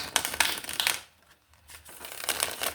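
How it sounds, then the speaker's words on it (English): Tarot cards shuffled by hand in two close, crisp bursts of riffling and flapping, separated by a brief pause. "go ahead and shuffle them again"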